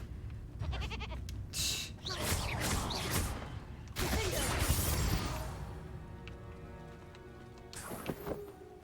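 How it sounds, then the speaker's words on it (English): A mongrel turned into a sheep in the Hogwarts Legacy video game lets out bleats amid crashing, clattering spell and combat effects, with loud bursts and then a calmer stretch toward the end. "Did I kill the mongrel by turning it into a sheep?"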